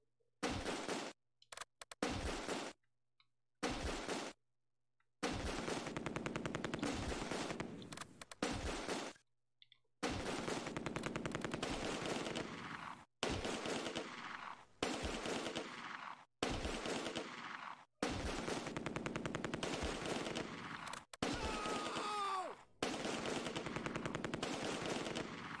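Repeated bursts of machine-gun fire in the Close Combat 2 war game during an Allied campaign battle, loud rapid rattles broken by short silent gaps, with no talking.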